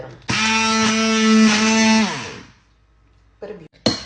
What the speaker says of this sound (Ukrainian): Далі печінка з цибулькою перебиваю блендером